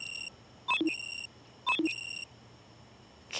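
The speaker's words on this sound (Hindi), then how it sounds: "कितने अलार्म लगाए हैं इसने सुबह उठ के क्लास आने के लिए।" An alarm clock beeps in repeated bursts of high electronic tones, each burst opening with a quick descending chirp and then a steady pulsed beep, clear and close with quiet gaps between.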